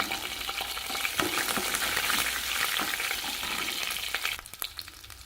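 Urad dal and garlic cloves fry in oil in a pan while making gooseberry chutney, a steady close sizzle with soft stirring scrapes that thins out near the end.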